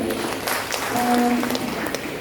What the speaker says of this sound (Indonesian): Tepuk tangan untuk narasumber.